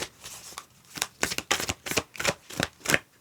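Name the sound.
shuffling tarot cards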